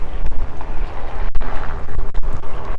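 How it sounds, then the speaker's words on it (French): Strong wind buffets the microphone on the deck of an Astondoa AS5 motor yacht, a loud, continuous rumbling roar with gusty surges and a few brief dropouts. "il y a beaucoup de vent"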